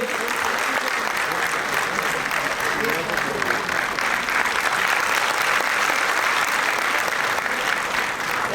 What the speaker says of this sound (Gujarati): આપણે સૌ તાળીઓના નાદથી આ ક્ષણને વધાવીએ.